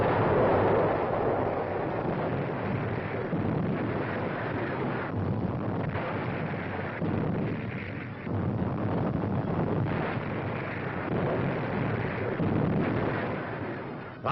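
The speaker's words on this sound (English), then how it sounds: "Enemy gun emplacements on the hills around Cassino are hammered without let-up" Allied artillery shelling enemy gun emplacements on the hills around Cassino: a continuous, dense roar of distant bombardment with repeated heavy thuds, broad and steady throughout.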